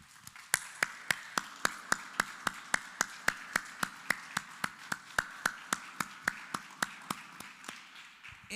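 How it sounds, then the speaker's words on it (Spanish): A church congregation clapping in unison, a steady beat of about thirty sharp, evenly spaced claps at a brisk pace, moderately loud and fairly close. "Dele un aplauso al Señor por eso"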